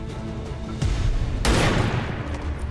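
Gunfire in XCOM 2, aimed at an enemy engineer: a sharp shot followed by a heavier blast and a burst of shots that fade away, loud and close, with no talk.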